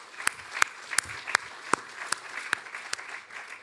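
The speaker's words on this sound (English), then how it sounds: "a round of applause," Conference audience clapping for event partners, a sparse run of sharp, distinct claps at a loose, uneven rhythm, fairly close and moderately loud.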